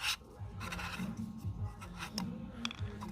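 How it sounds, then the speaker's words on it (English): A screwdriver scrapes around the outside of a filter housing during a Ford Ranger service, a faint, close, irregular rubbing and scratching with small metallic ticks. "Just run your screwdriver around the outside"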